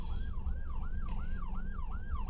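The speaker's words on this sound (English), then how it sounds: "it's an ambulance" A wailing ambulance siren sweeps up and down repeatedly, close and loud, over a steady rumble of traffic, with no voices.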